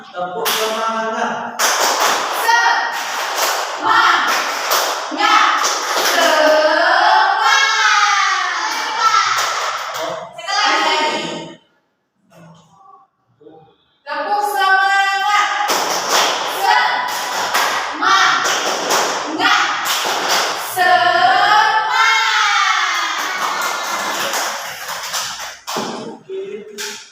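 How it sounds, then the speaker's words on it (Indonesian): A classroom of students performing a rhythmic spirit clap chant, sharp patterned claps punctuating loud group chanting voices, broken by a brief pause before a second round of chanting and clapping. "Tepuk semangat."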